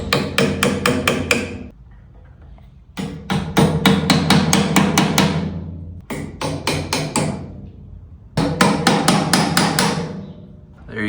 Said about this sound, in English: let's tap these clips in